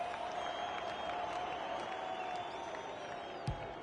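Crowd in an AFL 23 video game during a SANFL Port Adelaide versus Adelaide match, a steady moderate roar of cheering and applause throughout with a brief thump near the end.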